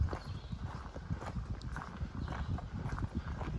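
A horse on a farm beside the Appalachian Trail walks with soft, irregular clip-clop hoof falls, heard faintly outdoors under a constant low rumble.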